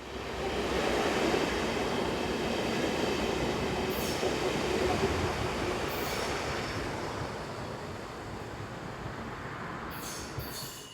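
A BLS Class 515 electric multiple unit on a Swiss railway between Interlaken and Spiez rolls past with a steady, broad rumble of wheels on track, heard from a moderate distance and fading slightly toward the end.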